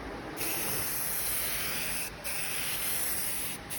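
Heat gun blowing a steady, close hiss of hot air onto trim-black-coated car trim on an El Camino, continuous with two brief dips in level.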